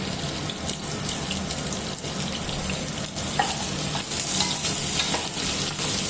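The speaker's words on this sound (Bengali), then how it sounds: "তেলটা একটু গরম হলে তার মধ্যে ডুমো করে কেটে রাখা আলুর টুকরোগুলোকে দিয়ে দিলাম" Diced potato pieces sizzling in hot oil in a pan, a dense, steady frying hiss with occasional crackles and spatter, close and continuous without speech.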